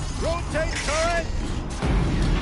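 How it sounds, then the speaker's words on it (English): A gun turret rotates in the video game Horizon Zero Dawn: a loud, steady mechanical whir and grind, with short rising tonal sweeps early on and a heavier rumble near the end. "Rotate turret!"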